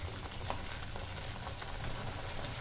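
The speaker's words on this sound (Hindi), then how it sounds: "ये देखिए भुनना शुरू हो गया है" Spinach and green pea masala with Kashmiri red chilli frying in a pan over a slow-to-medium flame, giving a steady, dense sizzle that holds even and unbroken throughout.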